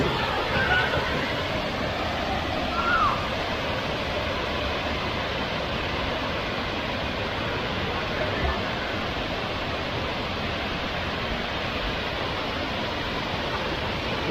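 Khlong Lan waterfall in Kamphaeng Phet pours in a steady, dense roar of falling water that stays loud and unbroken from start to finish.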